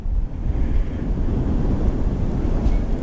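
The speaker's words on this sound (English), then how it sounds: "So yeah, it's a little windy" Strong wind buffeting the microphone with a continuous low rumble and gusty roar, loud and close throughout.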